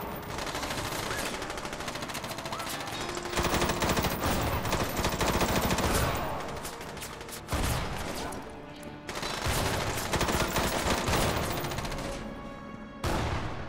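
Heavy gunfire in a mech combat game, Front Mission Evolved, with blasts that could be shotgun rounds among dense rapid shooting and explosions, loud and continuous with brief drops.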